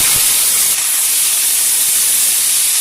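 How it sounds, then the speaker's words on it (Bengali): Cut eggplant, tomato, potato and onion tipped into hot mustard oil set off a loud, continuous hissing sizzle that fills the whole moment. "এবারে সব কেটে রাখা সবজিগুলো দিয়ে দিচ্ছি"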